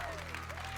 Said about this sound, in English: Mary Beth Wong deserves a huge round of applause, especially after that dismount on the rolling log.